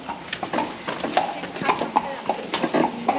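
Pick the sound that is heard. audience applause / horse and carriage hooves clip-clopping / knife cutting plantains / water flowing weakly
horse and carriage hooves clip-clopping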